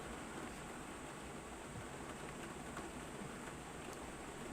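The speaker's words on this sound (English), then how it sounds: "You might be hearing some rain." Rain falls outdoors in Oregon, a steady soft hiss of drops with scattered faint taps, continuous and fairly quiet throughout with no voices.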